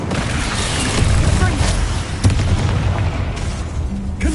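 Incendio fire spell cast in the video game Hogwarts Legacy, a loud, rumbling burst of whooshing flame with booming impacts, continuous and close, while a voice talks over it.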